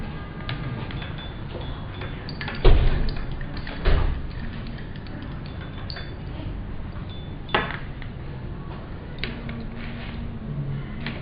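A buffer solution is stirred in a glass container during a lab pH test, producing scattered glassy clinks and taps, two louder knocks early on, over a quiet room.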